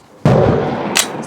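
A single sharp rifle shot from an M1 Carbine at an outdoor range cracks loud and close, its report ringing out briefly before a faint click follows.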